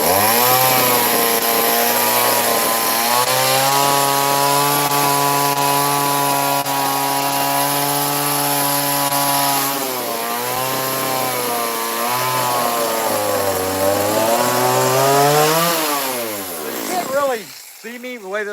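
A chainsaw cuts and trims the tail of a wooden fish carving, its loud buzzing engine droning steadily and rising and falling in pitch as it bites into the wood, then revving sharply near the end.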